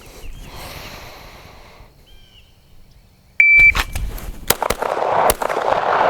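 Walther PDP Pro SD pistol fired outdoors at a cardboard target, a few sharp loud cracks spaced apart in the second half after a quiet stretch.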